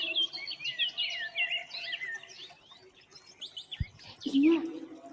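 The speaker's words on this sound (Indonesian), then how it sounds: "Ada suara burung pipit." Sparrows chirp in a busy, overlapping flurry of high tweets, with a low hum beneath and a brief knock near the end followed by a short lower call.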